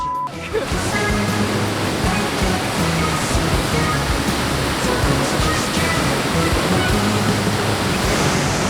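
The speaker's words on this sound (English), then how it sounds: "I've never seen water fall so hard." Powerful waterfall at Twin Falls in a remote wilderness gorge, pouring hard in a dense, constant roar of crashing water heard close and loud for the whole stretch, with no speech.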